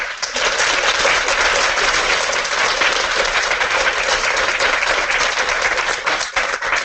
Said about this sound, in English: I think our faculty members deserve a huge round of applause